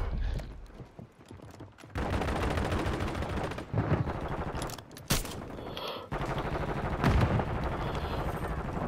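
Loud video-game gunfire crackles in rapid automatic bursts and single shots during a tense gas-mask firefight, with sharp close cracks and brief gaps between volleys.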